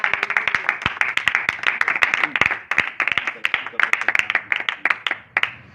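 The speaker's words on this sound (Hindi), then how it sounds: "एक बार अपने लिए ही जोरदार तालियां बजाइए" A congregation at an Urdu-language Bible study claps loudly and rapidly in a dense, continuous burst of sharp hand slaps, close and vigorous, with some voices mixed in beneath the clapping.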